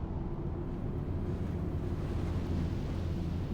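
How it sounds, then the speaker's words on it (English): Steady, intense wind roaring in the Star Citizen space game as a ship climbs through a stormy atmosphere, a constant low rumbling rush that stays loud and unbroken with no talking. "Wow, that's real windy. That's so intense."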